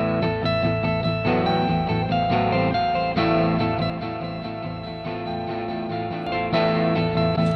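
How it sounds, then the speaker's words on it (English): Electric guitar track with an echo delay effect plays steadily, chords ringing with repeating delayed echoes and a full, sustained sound throughout, loud and alone without talk. "And then when we add our track with the echo"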